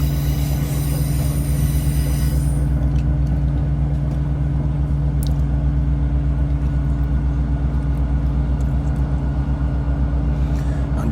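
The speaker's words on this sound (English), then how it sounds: "Good afternoon, from board ScotRail 1520 departure leaving to Edinburgh" A ScotRail passenger train travels out of Leven toward Edinburgh, heard from on board as a loud, steady low rumble and drone of the carriage on the rails, with no clear talk.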